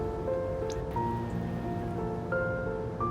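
Boiling water poured over ground dates for a date cake trickles and drips softly in a bowl, a faint close liquid splashing with small wet plops over a few seconds.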